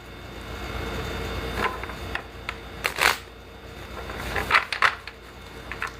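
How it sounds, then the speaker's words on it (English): A deck of tarot cards being shuffled by hand at close range, giving a series of brief papery riffles and snaps spread unevenly over a low steady room hum, with no talking. "so I fidget, hence the shuffling of cards"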